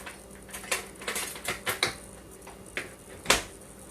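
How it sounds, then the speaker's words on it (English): A spoon clinks and taps against a dish of banana pudding with buttery cookie, a series of light, close, irregular clicks and scrapes over several seconds. "I'm going to get a spoon in here real quick"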